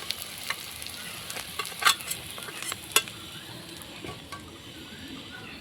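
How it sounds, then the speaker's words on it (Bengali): Spices and onion sizzling as they fry in a pan for a spicy potato and pabda fish curry, with a steady crackle and occasional sharp clinks of a stirring spoon against the pan. "মশলাগুলোকে কিছুক্ষণ পেঁয়াজের সঙ্গে ভেজে নিলাম"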